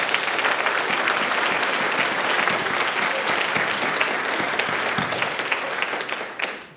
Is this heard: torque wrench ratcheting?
no